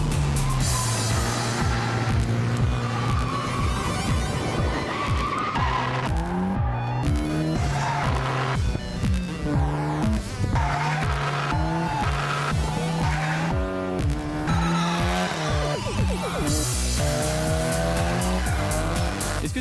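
A Mazda RX-7 drifts around the Pouilly-en-Auxois circuit during a French drift federation session, its engine revving hard and rising and falling as the tires squeal in long skids. The sound is loud and continuous, with no talking.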